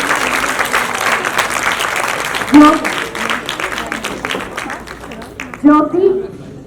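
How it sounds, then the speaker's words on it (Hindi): Children applaud at a charity event where sewing machines and embroidery kits are being handed out, with continuous clapping beneath someone speaking over a loudspeaker. "बच्चों जोरदार तालियां जरूर बजाते रहो।"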